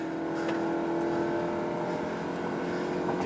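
A hybrid car on Pirelli Cinturato tyres pulls hard from standstill toward 80, a steady engine and drivetrain drone with a rising whine, close and continuous with no voices.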